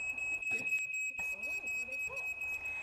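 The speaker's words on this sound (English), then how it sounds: "and even danger signals like the smoke alarm." A smoke alarm sounds with a steady, piercing high-pitched tone that holds for the whole stretch, over muffled background noise and faint voices.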